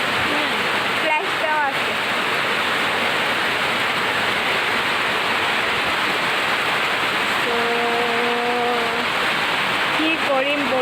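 Steady heavy rain pours outside during a hot spell, a dense unbroken hiss that fills the whole stretch, with a person speaking briefly over it near the start and some faint tonal beeps later.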